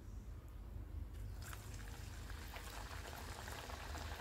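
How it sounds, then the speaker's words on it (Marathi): Upvas puris made from fasting flour deep-frying one at a time in hot oil, a steady, close bubbling crackle that holds throughout with a brief quieter start. "आता आपण एक एक पुरी तापून मस्त तळून घेऊयात।"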